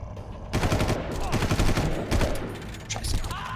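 Heavy sustained gunfire in the video game Far Cry, a loud near burst of rapid shots that starts abruptly and continues with brief gaps, with some voice underneath.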